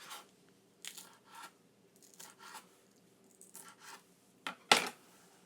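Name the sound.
crunchy fresh vegetables being cut for stir-fry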